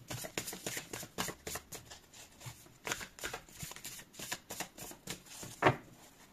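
Tarot cards shuffled and laid out on a table, a steady run of soft papery flicks and slides with one sharper snap near the end, close and fairly quiet.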